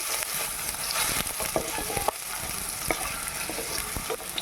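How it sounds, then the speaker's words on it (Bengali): Small cut potato pieces fry in oil in a home kitchen while making a jackfruit curry, giving a steady close sizzle throughout with occasional stirring clicks and scrapes. "আমি এখানে ছোট ছোট করে আলু কেটে রেখেছি সেটাকে আমি ভেজে নিচ্ছি"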